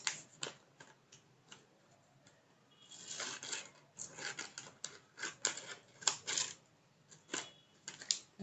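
Scissors trim a paper corset pattern with quiet, irregular snips and rustles that come close together in short clusters, with no talking.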